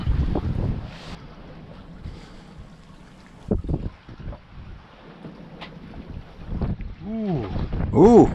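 Wind gusts buffet a sailboat out at sea, with rumbling microphone wind noise and water sloshing, and a voice speaks briefly partway through.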